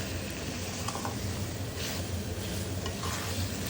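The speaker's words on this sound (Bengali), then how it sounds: "গরম মশলা আদা রসুন বাটা এগুলো দিয়ে এখন একটু মাংসটা কষিয়ে নিচ্ছে" Chicken being sautéed in a pan with garam masala and ginger-garlic paste, a dense, even sizzle and frying hiss close up with no pauses.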